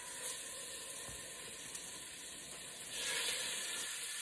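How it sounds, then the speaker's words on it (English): Chicken thighs searing skin-side down in hot olive oil give a steady, soft sizzling hiss that swells slightly near the end, with no talking. "when you drop the chicken in, you want the skin to make that sizzle"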